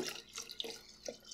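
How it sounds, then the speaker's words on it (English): Water poured into a rosemary hydromel mead mixture, quiet trickling and splashing in short bursts with a few drips, heard close. "More water."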